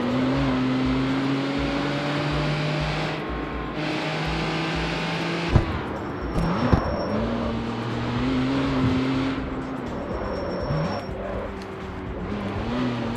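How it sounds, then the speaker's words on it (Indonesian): A car engine in the video game CarX Street hums steadily while driving, a continuous droning tone that shifts pitch as it accelerates and eases, with a couple of sharp knocks midway. "Suara mesinnya kayak mobil-mobil harian"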